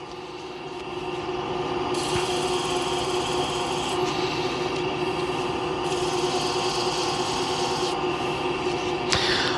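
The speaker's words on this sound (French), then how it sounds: "on ne vient pas poncer notre bois, on vient poncer notre cyanoacrylate" Abrasive paper rubbing against the cyanoacrylate (CA) glue finish on a pen spinning on a wood lathe, a continuous loud rasping scrape with brief pauses between passes, no talk.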